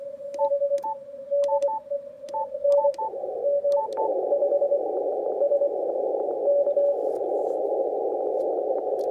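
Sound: Morse code CW signal received on Yaesu FTdx5000MP radio

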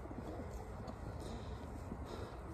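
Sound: racing pigeon cock cooing

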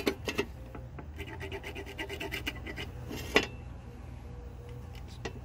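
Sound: scrubbing Powerstroke engine part clean

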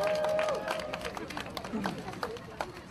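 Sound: applause at a marathon event

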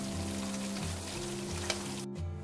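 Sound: fried fish sizzling in oil as it is taken out

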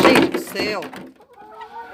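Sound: chickens clucking near the henhouse

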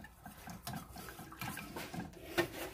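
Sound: light cream being poured into a pot

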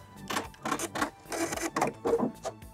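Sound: sewing machine back stitching zigzag seam

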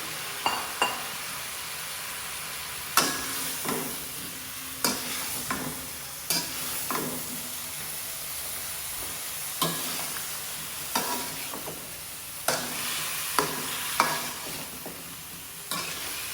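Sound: bottle gourd stirred and cooking in spice masala

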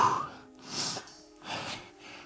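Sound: heavy breathing after mountain climbers exercise

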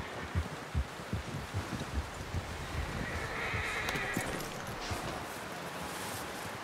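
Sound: horse neighing in a video game

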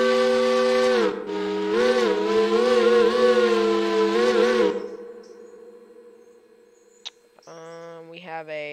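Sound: Powell 3-chime steam whistle in the game Railroader

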